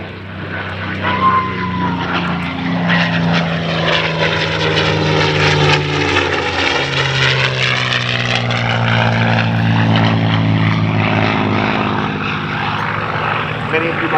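P-51 Mustang propeller fighter roars past at an air show, its engine drone swelling and falling in pitch as it passes, loud and sustained while an announcer talks over a public address.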